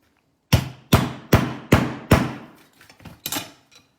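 A hammer striking a panel coated with Tamco HC895 intercoat clear: five sharp, loud, evenly spaced impacts with ringing decay, then a few lighter taps and one more firm hit.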